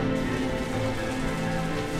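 Steady rain falls outdoors, a constant even hiss of drops on surfaces that holds at the same level for the whole stretch, with no voices over it.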